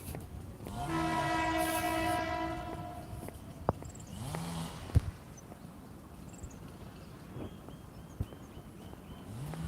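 A train rolls past close beside a railway track on a morning walk, a sustained loud horn blaring near the start, then wheels rumbling and clattering with a few sharp clanks as it goes by.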